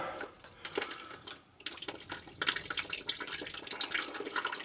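Water drains from an opened plug at the bottom of a plumbing pump being winterized, an uneven splashing trickle with a short lull before it picks up again, close by and with no talk.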